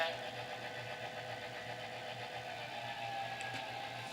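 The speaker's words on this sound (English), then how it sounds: "there's your prime mover revving down" Prime mover of a Walthers Southern F7 A-B model diesel locomotive winding down, a steady low mechanical drone with a faint rhythmic pulse and a whirring motor hum, fairly quiet and close, with no talk.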